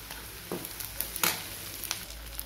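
Green chillies and curry leaves frying in a pan with onions for crab thokku, a faint continuous sizzle with a few light stirring scrapes, quiet and close, no voices.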